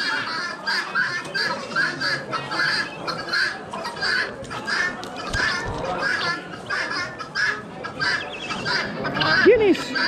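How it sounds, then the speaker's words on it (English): Many guinea fowl calling together in harsh, repeated cackles and squawks, a busy chattering flock close by with no talk over it. "Guineas!"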